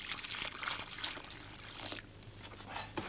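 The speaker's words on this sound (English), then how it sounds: "you need to make a hole in the middle to put the water into" Water trickles and pours into a hole made in the middle of a mud mix for making bricks, a close, steady wet dribbling lasting a few seconds.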